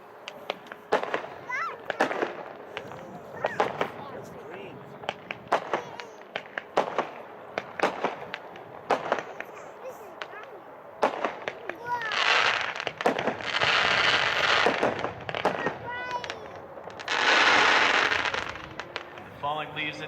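A Going Green 16-shot, 200-gram consumer firework cake fired from roughly 80 to 90 yards away: a steady run of sharp distant pops, then longer crackling, hissing bursts toward the end, with voices faintly underneath.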